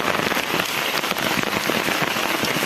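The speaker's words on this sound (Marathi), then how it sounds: "हा बघा आमचा धबधबा" A monsoon-season waterfall in the Konkan countryside rushes as a dense, steady hiss of falling water, loud and close, with no talk.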